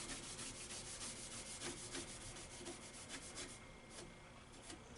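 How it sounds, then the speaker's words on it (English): A Scotch-Brite pad rubbed against the surface of a brass clock wheel: continuous rapid back-and-forth scratching strokes, close and fairly quiet, with no talking. "I'm just going to take a piece of Scotch-Brite and scratch up the surface a little bit, rough it up"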